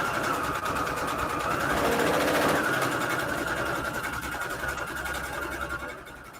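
A sewing machine stitching patchwork fabric runs in a continuous whirring hum with a steady mechanical rattle, loud and close, and eases off near the end.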